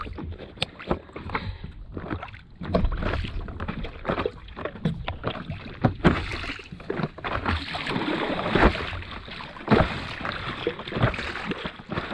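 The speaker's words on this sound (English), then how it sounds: "Time to start paddling." Paddleboard paddling on open water near Koh Samui, Thailand, with repeated splashing strokes and watery swishes over gusty wind noise, close and uneven.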